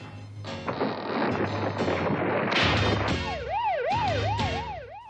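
A wailing prison alarm siren rises and falls repeatedly over a loud, dense rumble of music and noise in a French-dubbed cartoon, sounding close and urgent.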